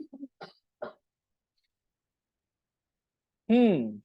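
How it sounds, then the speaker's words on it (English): Several short, sharp coughs in quick succession, then silence, followed by a brief voiced throat sound near the end. "You need to do something about your coughing."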